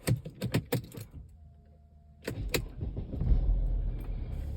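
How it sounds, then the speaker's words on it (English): Keys jangle in a few sharp clinks, then a Mercedes-Benz car is started, the engine catching and settling into a low, steady idle close by. "So let's start the car now."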